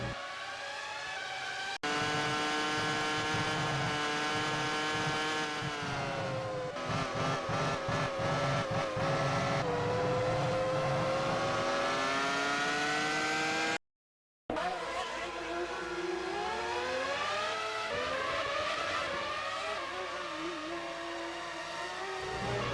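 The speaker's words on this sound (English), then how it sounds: "That is indeed Pedro Diniz having an engine failure" A Formula 1 car engine in the video game F1 Challenge '99-'02 screams at high revs during the 2000 French Grand Prix, shifting and wavering in pitch, cutting out briefly, then whining on with other cars passing. Commentary talk runs over parts of it.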